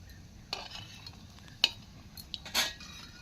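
Fried chicken pakoras are lifted out of hot oil with a slotted utensil, giving a few sharp metallic taps and scrapes against the pan over a faint sizzle.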